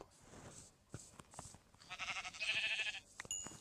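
A sheep bleats in a video game, a short, nasal cry rising briefly out of soft background noise and a few light clicks.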